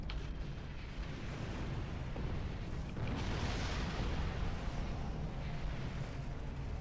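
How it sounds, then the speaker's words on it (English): Explosions in a space battle video game rumble and boom continuously, a dense, loud roar that swells midway with no voices. "Explosions! Noise! Reduced visibility."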